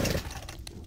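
A chainsaw revs briefly in the Evil Dead video game, a short loud buzzing burst that fades quickly.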